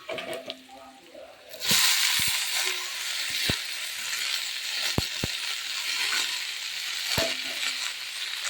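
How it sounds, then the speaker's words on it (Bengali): Leafy greens hit a hot pan with browned onion and burst into a loud, steady sizzle that holds throughout, broken by a few sharp clicks of a spatula stirring against the pan. "আমার শাক ভাজা হয়ে গেছে"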